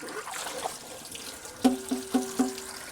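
Tap water runs softly into a sink while a dish is washed by hand, a faint steady trickle with a few light clinks near the end.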